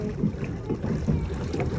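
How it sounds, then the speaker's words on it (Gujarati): Water lapping and churning around a pedal-powered cycle boat on a lake near a hill station, a short stretch of low splashing and paddling with faint wind. "સાયકલ બોટ છે"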